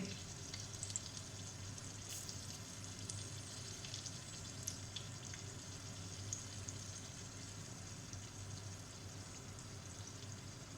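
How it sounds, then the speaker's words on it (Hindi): Steady, close sizzling and crackling of a hot oil tempering poured onto yogurt, continuous and even throughout with no voices. "ये तड़का हो गया रेडी, और इसको अब हम इस दही के ऊपर डाल देते हैं"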